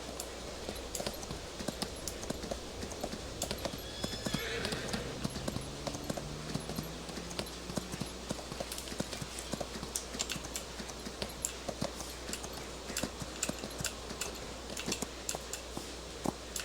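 Horse hooves clip-clop steadily at a riding pace in Farming Simulator 25, a continuous even rhythm of close hoof strikes over a low engine-like hum.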